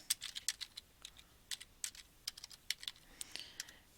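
Computer keyboard typing comes as a quick run of light, close clicking keystrokes at an uneven rhythm, fairly faint and with no voices.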